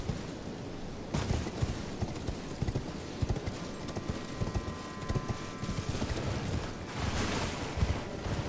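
Horse hooves gallop at a steady clip-clop rhythm as a rider heads back across Elden Ring terrain, close and fairly quiet, with a few sharper rustles and thuds mixed in.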